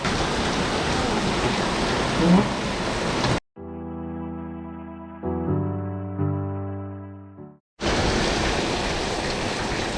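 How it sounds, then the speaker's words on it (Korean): Heavy rain pours in a dense, loud hiss in Krabi, Thailand, cut off by a short stretch of sustained musical tones before the downpour returns at full strength. "날씨가 와 이거 비 너무 많이 들어오는데"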